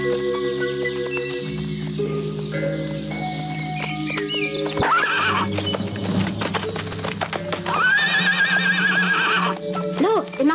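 Horses neigh loudly several times over a musical background as they are let out of their stable stalls, with hooves clip-clopping and people talking now and then.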